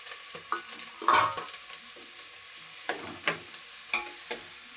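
Ginger garlic paste, onions, coriander and curry leaves stirred in a pan, with a soft frying sizzle beneath scattered scraping clicks of the spoon, one louder scrape early on, nearby and alone.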